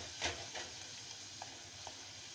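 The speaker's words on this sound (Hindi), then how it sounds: "हमने इसको अच्छी तरह से मसाले को भून लेना है।" Spices and kala chana being stir-fried in a pan: a steady, soft sizzle with a few light scraping stirs of a spoon, close and quiet.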